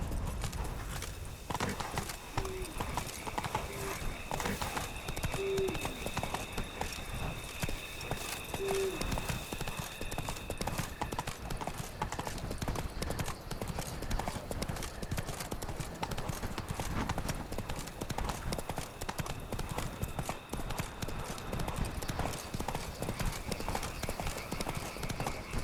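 Horse hooves clip-clop steadily at a riding pace in The Witcher 3: Blood and Wine, an even, continuous rhythm of hoofbeats at moderate volume with soft game ambience underneath.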